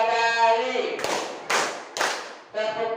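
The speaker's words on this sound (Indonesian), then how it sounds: "Tepuk tangan 3 kali." A fourth-grade class in an Islamic studies lesson claps three times in unison, sharp, even, fairly close slaps following an adult's spoken cue and followed by more talk.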